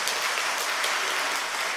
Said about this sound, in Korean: 박수 받으려고 인사한 건 아닌데